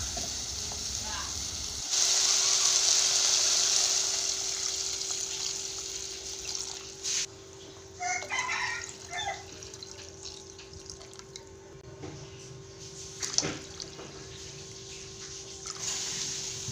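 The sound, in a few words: water poured into pot with meat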